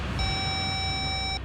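A steady electronic tone of a disconnected phone call, one continuous beep lasting just over a second over a faint background hum, fairly quiet and close.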